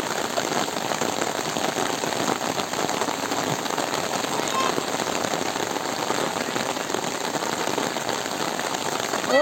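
Rain pours down outdoors over a village floodwater area, a dense, even, close hiss of drops striking surfaces that runs unbroken, with no speech.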